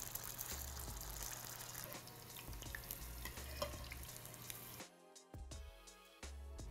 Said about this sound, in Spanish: Ya terminamos de freír nuestros kebabs